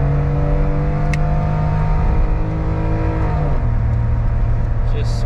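A Suzuki Wagon R kei car accelerates hard, its small engine droning loudly and steadily from inside the cabin, then dipping in pitch as the gear shifts partway through before pulling on again.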